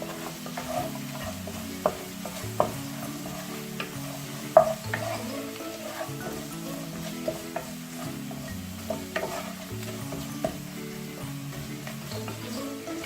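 Chillies frying in a pan for a chicken and pepper curry give a soft, steady sizzle, with occasional stirring scrapes and light clinks of a utensil against the pan.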